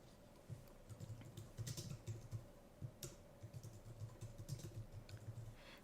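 Rapid, soft clicking of keys on a computer keyboard as a name is typed, in uneven bursts of keystrokes with short pauses, close and quiet with no talk.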